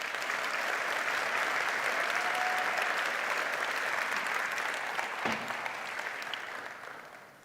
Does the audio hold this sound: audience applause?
yes